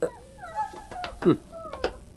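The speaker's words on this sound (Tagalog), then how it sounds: "Di may isa kadagiti tarakan nga aso dayta" A dog whimpers and yips in short, high, whiny bursts, close by, mixed with brief human vocal sounds.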